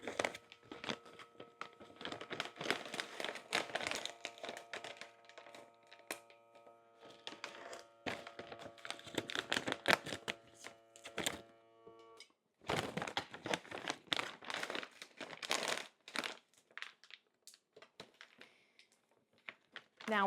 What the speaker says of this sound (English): Just compressing out as much of the air as I can